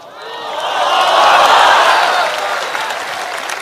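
Applause from the audience at an Islamic religious lecture, a broad wash of clapping that swells to a peak midway and then holds steady, fairly close and dense.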